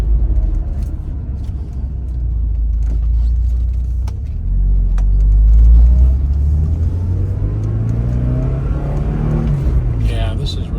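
A 1986 Porsche 944 with a five-speed manual pulls away and accelerates, its engine rumbling loud and low in the cabin, the pitch rising steadily through the gears while people talk over it now and then.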